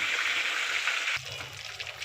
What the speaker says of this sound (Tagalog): Ayan, pinipirito na. Matalansik lang siya.